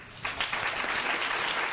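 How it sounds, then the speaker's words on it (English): Courtroom audience bursting into applause right after a sentencing, dense sustained clapping starting abruptly and holding steady and close. "the courtroom erupted in clapping"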